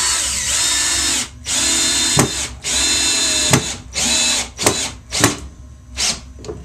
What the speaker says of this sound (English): I'm just screwing it in.